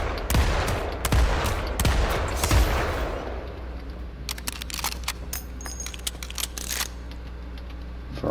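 Weapons fire in the Planetside 2 VR training area: a loud opening of rapid, rattling bursts, then lighter scattered clicks and shots as other guns are tried.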